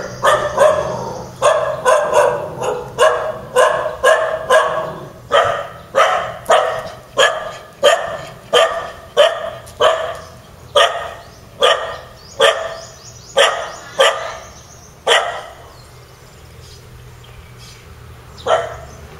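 Dogs at a temple in Kelantan bark loudly and close, a rapid string of sharp barks in quick rhythm that slows toward the end with a final lone bark after a brief quiet gap.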